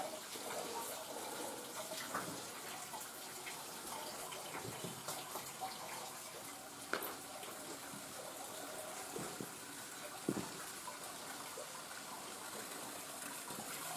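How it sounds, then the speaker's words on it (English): Water gushes from a hole in a wall beside Fish Creek in cold weather, where ice has formed around the flow. It makes a steady, rushing pour at moderate distance with a few small splashes and no voices. "Look at that water just pouring out of that hole in the wall."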